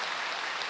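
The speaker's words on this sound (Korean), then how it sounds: "박수까지 쳐주십니다." Church congregation clapping together at a Korean church retreat service, a brief, steady wash of applause heard alone.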